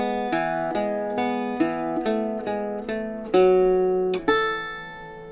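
Irish bouzouki picks a lilting melody line from the jig "The Gander in the Pratie Hole", with clear plucked notes and ringing double courses played close and alone, ending on a held note.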